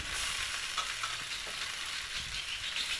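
Steady frying sizzle with light stirring scrapes as cooked vermicelli upma is mixed in a hot pan with turmeric and salt, continuous and close, no talking.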